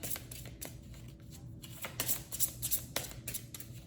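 Oracle cards being shuffled by hand, a soft, fairly quiet run of papery riffles and flicks in uneven bursts, close and alone without talk.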